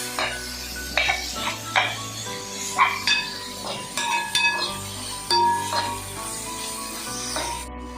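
A spoon stirs chopped tomatoes into a masala paste in a pan for duck mappas, with scraping and clinking strokes at an uneven rhythm over a low background sizzle, close and fairly loud.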